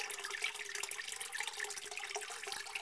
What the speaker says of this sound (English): water's running pretty quickly, as you can hear